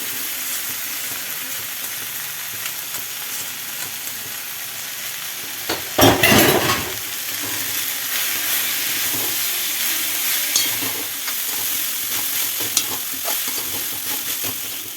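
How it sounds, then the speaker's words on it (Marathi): Rice being stirred and fried in a pan with peas, a steady sizzle and scraping running throughout, close and fairly loud, with a brief louder burst of stirring near the middle. "तो सुद्धा छान मिक्स करायचा आहे आता यामध्ये घालायचं आहे राईस"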